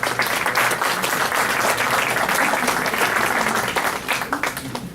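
An audience at a French association's general assembly applauds medal recipients after an award ceremony, a dense, steady wash of many hands clapping throughout, loud and close, tapering slightly at the end.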